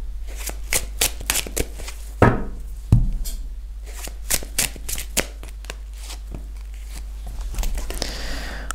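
Tarot cards are shuffled for a reading in a quiet room: a steady run of crisp riffling and flicking, close and fairly loud, with no talk.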